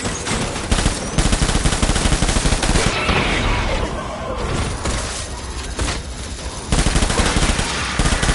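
Machine gun fire in the video game Death Stranding, dense rapid bursts that pause briefly mid-clip and then resume loudly.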